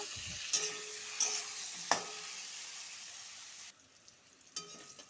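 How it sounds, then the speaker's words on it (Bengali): Pointed gourd fries in a pan with turmeric: a steady broadband sizzle runs throughout, broken by a few sharp spatula scrapes and stirs. The sizzle drops quieter near the end, and no one speaks. "হলুদ দিয়ে আবার ভালো করে ভেজে নিব"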